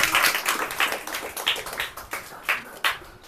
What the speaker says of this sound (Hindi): They are clapping.